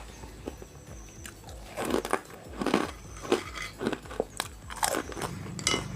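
Crispy baked jackfruit chips are bitten and chewed up close, with a run of sharp, dry crunches that come in uneven bursts over a few seconds, with no talking.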